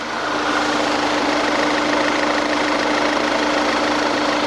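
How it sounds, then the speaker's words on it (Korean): An Audi car engine idles steadily and close by, a constant low rumble with a faint ticking texture, no voices. "앞에 가서 엔진 소리 듣고 마무리할게요"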